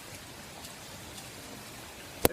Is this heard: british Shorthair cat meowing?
no